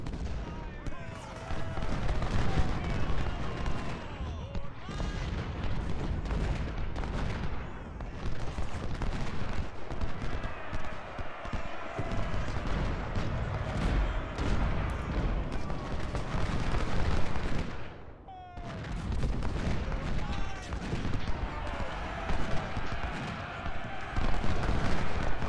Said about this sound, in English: So we got the Orphan Brigade firing into their flank.